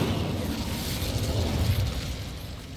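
Incendio fire spell in Hogwarts Legacy, a dense roaring burst of flame that stays loud and steady for a few seconds, with no voices over it.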